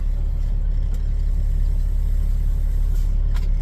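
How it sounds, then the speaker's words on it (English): A heavy truck engine idles loudly and steadily up close, a constant low rumble with a couple of faint clicks. "Really loud when you walk by the engine."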